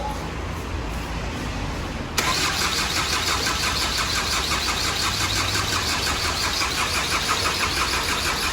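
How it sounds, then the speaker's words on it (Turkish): A Ford Connect engine, freshly rebuilt, cranks and catches abruptly, then settles into a loud, steady idle close by. "Birazdan marş yapacağız."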